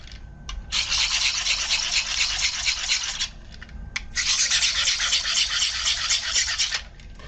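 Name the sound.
sharpening a telescoping utility blade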